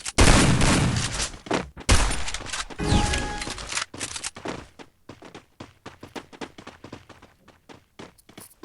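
Video game gunfire in Free Fire: loud, close bursts of rapid shots in the first few seconds, then quieter rhythmic thuds of running footsteps with a few scattered shots.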